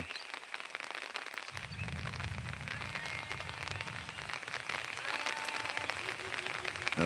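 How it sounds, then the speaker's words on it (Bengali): Rain falling after a spell of hot weather, a steady broadband hiss of drops on surfaces that thickens after the first second and holds throughout, with no voices. "বৃষ্টি আসতেছে"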